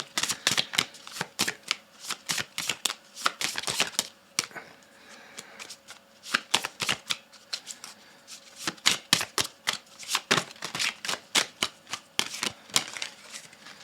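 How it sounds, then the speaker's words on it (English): Rapid bursts of tarot cards being shuffled, riffled in quick clusters with short pauses between, close up and crisp, no voices. "Now all we got to do is shuffle this one up just a little bit more."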